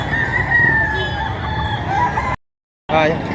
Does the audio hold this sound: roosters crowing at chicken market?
yes